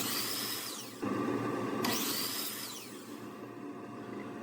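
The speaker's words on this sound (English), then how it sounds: "I do that on the power miter saw" Power miter saw cutting wood trim, two short whining spin-up passes with the blade biting in, the motor winding down after each cut.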